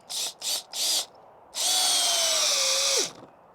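A RIDGID cordless drill running on a 4 Ah battery gives three short trigger bursts, then drives a fastener in one sustained loud whine that slows and cuts off as the fastener seats, close up.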